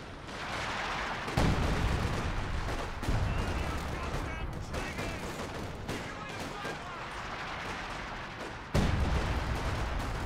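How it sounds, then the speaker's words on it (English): Artillery barrages and gunfire in the World War II strategy game Company of Heroes 2, with heavy booming impacts and crackling shots rolling on continuously while a commentator talks over them. "Oh, we've got some artillery coming in."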